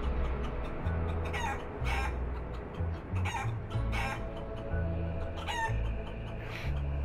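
A chicken in the Guacamelee! Super Turbo Championship Edition video game clucks in repeated short bursts over steady looping game music, fairly close and clear.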